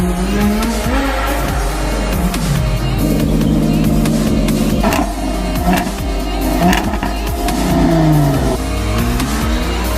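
Audi R8 sports car engine revving loudly and continuously, with rising and falling engine tones and tire-squeal-like whines throughout, no talk.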